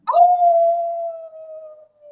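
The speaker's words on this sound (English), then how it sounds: "Zero exuberantly howls." A single dog howl sound effect rises sharply and then holds a long, steady, clear tone close and loud, fading out after about two seconds with no other sounds around it.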